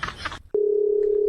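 A telephone sounds with a steady electronic tone starting abruptly after a burst of noise and continuing unbroken to the end, clear and fairly loud.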